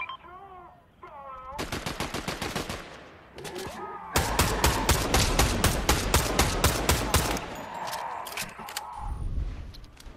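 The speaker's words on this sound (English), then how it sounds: "It's good they're shooting at you." Fortnite gunfire rattles in rapid automatic bursts, loud and dense, with a few single shots and game sounds between volleys and a voice speaking briefly at the start.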